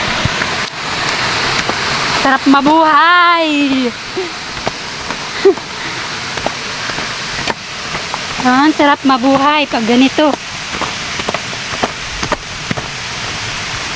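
A river rushes along beside a rocky hiking trail, a steady broad wash of flowing water that runs throughout while someone speaks over it at times.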